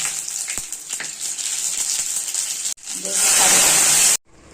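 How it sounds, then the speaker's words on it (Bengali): Mustard seeds crackle in hot oil in a wok for a dosa chutney, starting as a moderate hiss with faint pops, then bursting into a loud, intense sizzle before cutting off abruptly. "কড়াইতে তেল বসিয়ে দিয়েছি এখন গরম করে দেবো সর্ষে"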